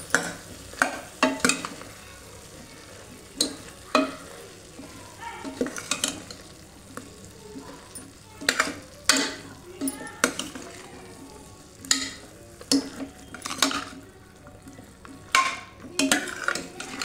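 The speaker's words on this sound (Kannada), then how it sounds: "ಚೆನ್ನಾಗಿ ಮಿಕ್ಸ್ ಮಾಡ್ಕೊಳ್ಳಿ." A spoon stirs sambar powder into curry in a pot, making repeated clinks and scrapes against the metal over a soft sizzle.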